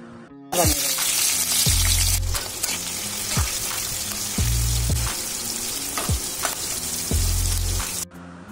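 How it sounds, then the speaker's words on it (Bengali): Onions fry in oil for crisp beresta, giving a loud continuous sizzle with sharp crackles and periodic low thumps, close and steady with no talking. "এখানে আমি যে তেলটা আছে এখানে আমি পেঁয়াজ বেরেস্তা করে নেব"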